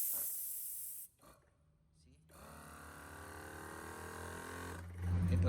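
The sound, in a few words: air released from portable 4-cylinder air compressor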